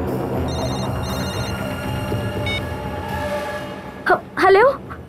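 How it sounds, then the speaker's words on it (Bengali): A telephone rings in a tense indoor drama scene, two short bursts of bright warbling ring standing out near the end over a steady background hum and music bed. "ফোনটা তোলো আর ওকেই জিজ্ঞেস করে নাও।"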